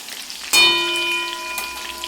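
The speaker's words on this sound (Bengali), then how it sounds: "পটলগুলো আমি হালকা একটু লাল করে ভেজে নেব।" Pieces of pointed gourd (potol) dropped into hot oil in a pan burst into a loud sizzle, then settle into a steady, close frying hiss with no talk.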